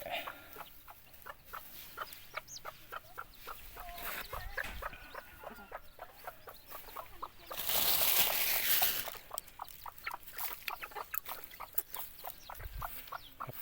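Bantam chickens clucking repeatedly in a steady chattering stream, moderately near and fairly faint, with a brief burst of rushing noise midway.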